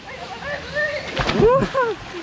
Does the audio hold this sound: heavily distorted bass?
no